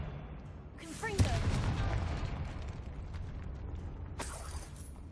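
A Confringo fire spell cast in the video game Hogwarts Legacy: a sudden sharp crackling burst, then a loud rumbling, fiery roar that slowly fades, with another whooshing surge near the end.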